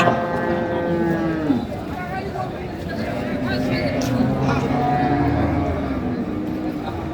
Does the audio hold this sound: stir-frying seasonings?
no